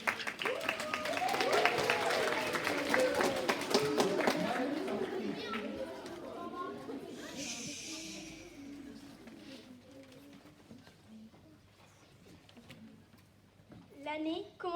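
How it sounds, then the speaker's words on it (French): Children in a school class clapping and chattering, a busy burst of applause mixed with lively voices that tapers off into quieter murmuring and scattered noise. "Applaudissez."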